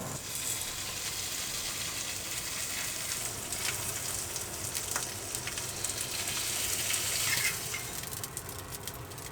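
Wagyu beef sizzling and frying in a pan, a steady broadband crackle and hiss with scattered small pops, moderately close and continuous throughout with no talk.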